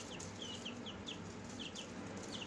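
Faint high cheeps and chirps from a small group of chickens come in quick repeated bursts, with no talking.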